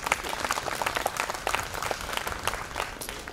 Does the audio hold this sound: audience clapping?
yes